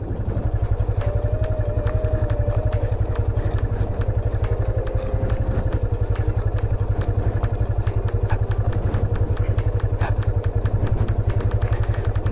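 A motorcycle engine pulls uphill on a ride to the Kargil view point in Guwahati, a loud close throbbing putter with rapid even pulses, plus occasional rattles and a passing tonal whine.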